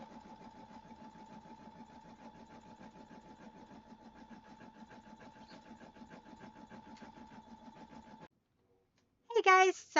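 A Brother SE600 embroidery machine stitches a quilt label with a steady, fast mechanical hum and rhythmic needle chatter that runs evenly for several seconds, then stops abruptly and is followed by a short burst of voice.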